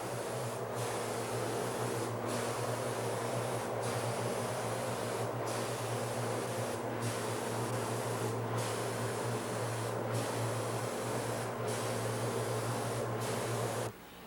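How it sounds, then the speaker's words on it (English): A steady, loud hiss of a spray gun applying paint to an outboard engine bracket on a fishing boat, running continuously with brief regular pauses every second or so, over a low mechanical hum. "That's what he's going to be spraying now."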